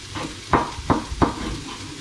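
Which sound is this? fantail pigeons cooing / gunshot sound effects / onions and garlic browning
onions and garlic browning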